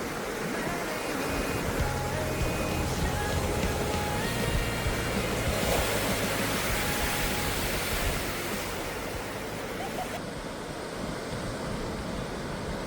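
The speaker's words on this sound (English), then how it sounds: "The tides can turn quickly and the waves rush in and out with startling speed" Ocean waves on a glass-covered beach make a steady, broad roar of surf with swells rising and falling, and a faint low hum runs underneath.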